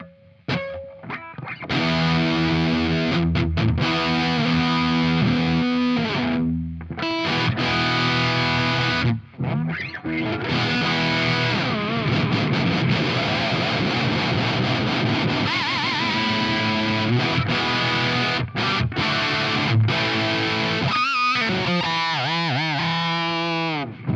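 Heavily distorted electric guitar, a Charvel Pro Mod SoCal Style 1, plays loud, with pitch dives, swoops and squealing bends from its Floyd Rose whammy bar, broken by brief gaps of silence.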